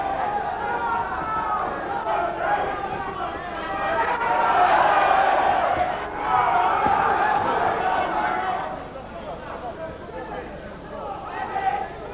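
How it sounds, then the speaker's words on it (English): A 1989 boxing crowd at the Elephant and Castle Leisure Centre gives off a steady roar and murmur that swells in the middle, under continuous commentary. "this crowd in the Elephant and Castle Leisure Centre very much enjoying the way Angol is working here"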